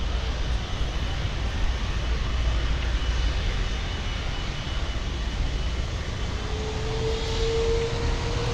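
A KLM jet airliner on the runway at Miami International Airport, a loud steady roar of jet engines heard from a distance, with a faint rising whine entering near the end.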